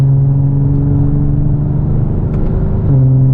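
Lexus GS350 F Sport sedan accelerating in a sport driving mode, a steady close engine drone with a low hum that rises slightly and shifts near the end, heard from inside the cabin with no talking.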